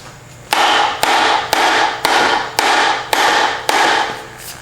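Loud hammer blows strike metal about eight times in an even, steady rhythm, each hit ringing briefly before the next, while working on a Johnson 25hp outboard motor.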